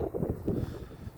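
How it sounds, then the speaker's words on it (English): Wind buffets the microphone in low rumbling gusts, with a brief stronger gust near the middle, steady and close throughout. "It's a little bit windy and stuff"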